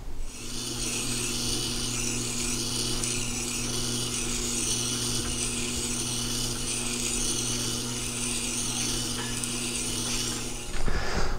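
A plane blade is being cambered on a Tormek sharpener stone held in an SE-77 jig, giving a steady, close grinding hum with a low mechanical drone that runs unbroken and then ends with a brief shift in tone.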